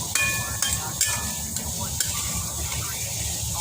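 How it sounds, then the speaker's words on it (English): Pork belly for curry sizzles and spits in a hot pan of oil, a steady crackling hiss broken by a few clinks of a utensil against the pan. "Here I'm doing frying up the pork belly."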